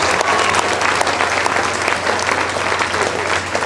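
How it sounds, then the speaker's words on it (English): Audience at a career fair symposium clapping hands, a loud, even roar of applause from a full room that holds steady throughout, with faint voices mixed in. "can you clap your hands?"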